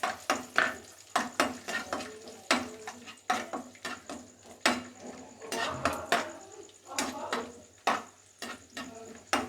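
Raisins tipped into a hot pan and stirred while making avil vilayichathu, with repeated clanks and scrapes of a spoon against the pan over a faint frying sizzle.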